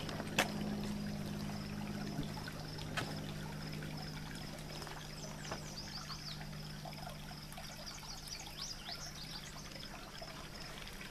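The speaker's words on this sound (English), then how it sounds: "got a nice little creek flowing here" A small creek trickles and burbles steadily, faint and continuous, with a few brief clicks and distant insect or bird chirps in the background.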